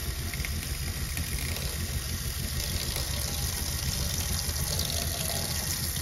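Water runs steadily from a Fogatti tankless water heater, a constant broadband hiss with a low humming undertone, unbroken and moderately close.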